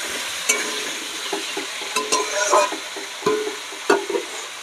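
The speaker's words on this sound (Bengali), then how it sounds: "আমার পেঁয়াজ আর আলু একসঙ্গে ভাজা হবে" Potatoes and onions fry together in a pan in a village kitchen, a steady close sizzle broken by several sharp scraping stirs spaced about a second apart, with no talking.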